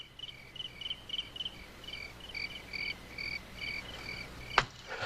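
Crickets trill in a nighttime Western setting, repeating evenly spaced chirp bursts at moderate loudness, ending in a sharp knock-like transient, with no speech.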